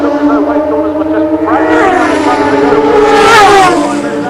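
Drag racing cars at Santa Pod rev and accelerate hard off the start line, engines rising in pitch and surging loudly to a peak before easing, with a commentator talking over the roar.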